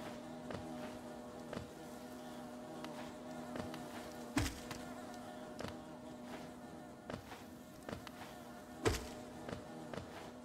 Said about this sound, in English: Bees! We got bees! Ooh, and you can hear them.